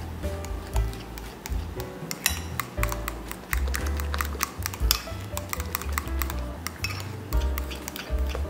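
Spoon clinking and scraping against a bowl while banana and egg batter is mixed, a steady run of close, irregular ticks and taps without talk.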